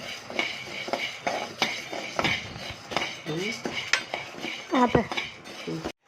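A metal ladle scrapes and clinks against a pan as toor dal is slowly dry-roasted for kandi podi, making busy, close, repeated stirring clatter with a faint voice briefly underneath.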